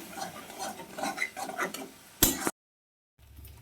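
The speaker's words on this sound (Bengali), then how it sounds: "সামান্য একটু জল দিয়ে দিলাম দিয়ে মশলাটা একটু কষিয়ে নেব" Spice paste with chili and turmeric powder and a splash of water stir-fried in a pan, giving scraping and clinking of a spoon against metal with a soft sizzle, a louder burst, then a sudden cut to silence and faint noise.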